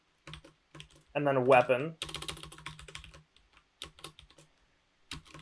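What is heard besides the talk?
typing a search query on a computer keyboard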